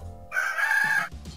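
A rooster crows once, close and loud, a single drawn-out cock-a-doodle-doo cry.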